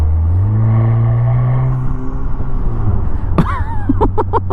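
A 2020 Vanderhall Carmel sports car with about 194 horsepower accelerates hard with wheelspin, its engine note climbing loud and close, then a few sharp bursting pops or chirps toward the end.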